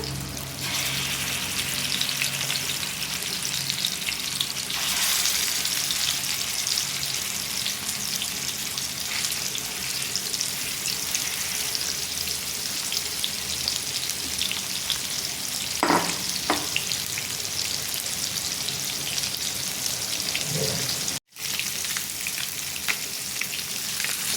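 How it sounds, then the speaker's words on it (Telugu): Pieces of fish frying in a couple of spoonfuls of hot oil, giving a steady, dense sizzle throughout with a few brief clinks and shuffles of the pieces, and one sudden momentary cut to silence near the end. "ఆయిల్ హీట్ అయ్యాక ఇలా చేప ముక్కల్ని వేసుకొని ఫ్రై చేసుకోవాలి"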